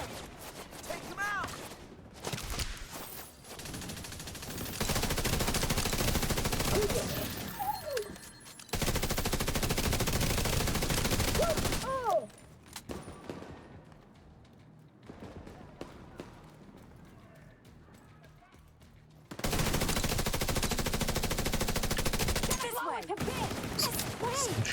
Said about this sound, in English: Some shooting.